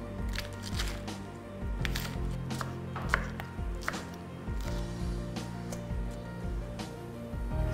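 A knife taps briskly on a cutting board while lettuce is cut into small pieces for a chicken salad sandwich, making a quick, uneven run of close, crisp knocks with a low hum underneath.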